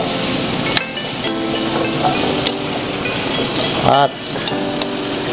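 Pork and vegetables sizzle and frying in a pan as a utensil stirs and scrapes, with a few sharp clinks of metal against the pan, continuous and close.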